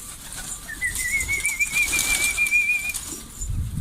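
A Şanlıurfa filo pigeon flaps its wings in flight nearby, a soft fluttering rush joined by a thin, sustained whistling tone lasting about two seconds.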